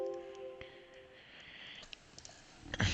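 Computer mouse clicks sound as a few short, sharp taps scattered across a quiet, faintly noisy room, with a small burst of louder handling near the end while a digital takeoff and estimation program is being used.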